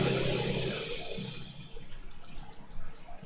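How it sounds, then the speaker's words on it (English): A virtual gold wash table powering up in Gold Rush - The Game, giving a loud rushing, watery churn that starts strong and settles into a steadier, slightly quieter flow with no talking. "press the left-hand red button to start the table"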